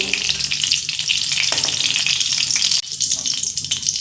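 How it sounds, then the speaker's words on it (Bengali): Eggs frying in hot oil, a loud, dense, continuous sizzle with crackling spatters close by, briefly dipping near the end before resuming just as strong. "ডিম ভাজতে গেলে একটু ফাটে"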